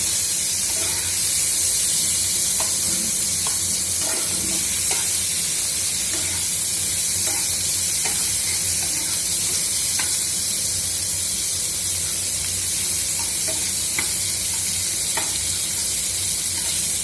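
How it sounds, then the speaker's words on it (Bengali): Onions frying until reddish brown for a vegetable bharta, a dense continuous sizzle and hiss with occasional scraping stirs, steady and close throughout, no talking. "পেঁয়াজগুলো এবার আমি একটু লাল লাল করে ভেজে নেব।"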